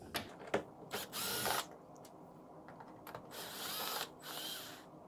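Cordless power drill backing screws out of a bracket on a Roland digital grand piano, several short whirring bursts separated by pauses and small clicks, close and fairly quiet.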